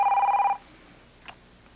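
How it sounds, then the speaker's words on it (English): A telephone rings with a single sharp electronic trill in a quiet firehouse room and then stops, leaving near silence. "We're not answering the phone."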